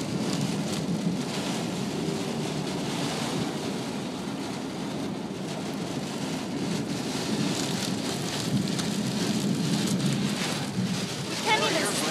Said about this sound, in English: I haven't seen rain like this in a long time.